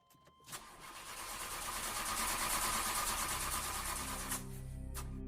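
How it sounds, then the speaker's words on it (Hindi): A car engine cranks as it fails to start, a sound effect with a loud sustained whirring churn lasting about four seconds before cutting off, then a low lingering rumble. "लेकिन गाड़ी चालू नहीं हो रही थी"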